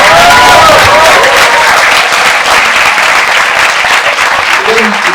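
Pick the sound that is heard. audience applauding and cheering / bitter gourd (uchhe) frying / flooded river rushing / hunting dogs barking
audience applauding and cheering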